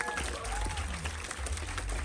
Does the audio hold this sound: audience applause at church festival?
yes